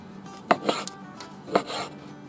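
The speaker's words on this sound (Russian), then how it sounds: "Пока казан греется, нарезаем сало." A knife chops pork fat (salo) on a board, two distinct, fairly close cutting strokes about a second apart, each with a short scraping tail, in a quiet setting.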